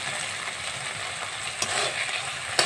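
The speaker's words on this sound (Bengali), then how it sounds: "হলুদ দিয়ে নেড়ে চেড়ে নিতে হবে।" Fish curry with turmeric stirred in a pan, a continuous soft sizzle under a few scattered scrapes and taps of the spoon, close but fairly quiet.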